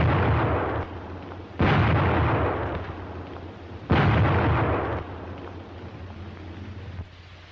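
Two heavy, booming blasts from grenades in a WWII infantry assault, each followed by a long rumbling decay, with a fainter thump near the end, recorded as distant, muffled battlefield sound.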